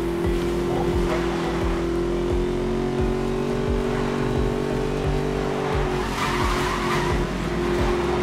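A Ford Mustang Boss 302 drifting in Need for Speed Most Wanted (2012), its tires skidding with a sustained squeal over a loud, steady engine drone, close and continuous without talking.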